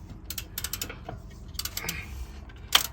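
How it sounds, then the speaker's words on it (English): A ratchet quickly spins nuts down on a car before torquing, making soft, close, rapid clicking in short bursts, with a sharper metallic tap at the end. "So now I've got them in, I'm just going to whiz them up before I put the torque wrench on with the"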